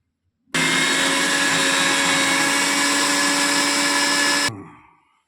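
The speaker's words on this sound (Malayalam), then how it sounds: "ഞാൻ ശകലം വെള്ളം ഒഴിച്ച് അരച്ചെടുക്കുകയാണേ" Mixer grinder blending fish masala with a little water: a loud, steady high-pitched motor whine that starts abruptly, runs about four seconds alone, then winds down as it is switched off.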